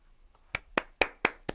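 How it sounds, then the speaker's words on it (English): Five crisp hand claps in a quick, even rhythm, close and distinct against quiet. "I'm applauding. I'm clapping because you are living full out, girl."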